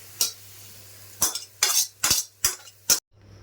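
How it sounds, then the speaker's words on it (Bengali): Fried onions, garlic and dried red chillies scraped from a pan into mashed taro leaves: six short, close metallic scrapes and clinks of a spoon against cookware, separated by brief pauses, with no talking. "আমি এগুলি কচুর মধ্যে ঢেলে দিচ্ছি"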